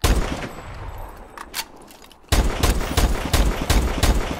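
SVO sniper rifle in Call of Duty Advanced Warfare firing a series of loud, sharp shots at a steady, fairly slow pace, with a few fainter reports before a sudden louder volley.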